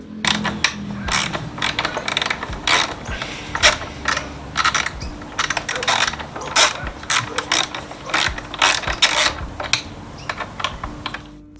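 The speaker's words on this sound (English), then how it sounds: "we have this 12 millimeter fastener. We're gonna crack it loose, but we're not gonna completely remove it." A ratchet loosens a 12 millimeter fastener on a motorcycle, giving rapid, close clicking pawl bursts in repeated short runs with brief pauses between strokes.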